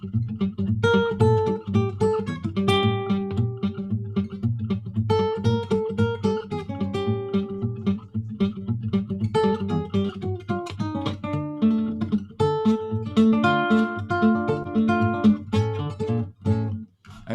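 Acoustic fingerstyle guitar picks out a melody and also copies the bouncing repeats of an echo machine, dense cascading notes ringing over a steady bass line, close and continuous with no talking.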